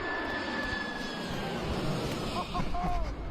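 An airplane passes overhead while a plane spotter records it, giving a steady, loud engine roar that fills the whole moment with little change in level.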